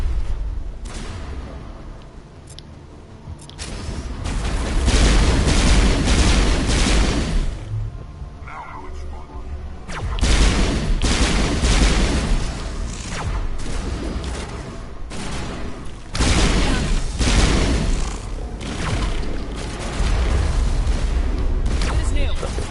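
Sustained gunfire and booming blasts from a firefight against Geth in Mass Effect Legendary, loud and dense with bursts through most of the stretch and a brief lull, under occasional voices.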